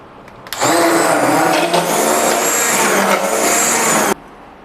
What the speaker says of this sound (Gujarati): દાળ ઠંડી થઈ ગઈ છે તો દાળને આપણે બ્લેન્ડ કરી લેશું